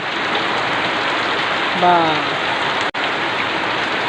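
Heavy rain pours steadily on a hot day, a dense, loud wash of falling drops that stays constant throughout, with a brief voice and a short tonal sound rising over it midway.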